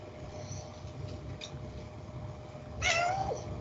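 A voice imitating a cat's meow during a tabletop fantasy game session: one short, rising mew near the end, over a steady low room hum with no other sound.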